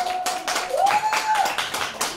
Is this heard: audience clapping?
yes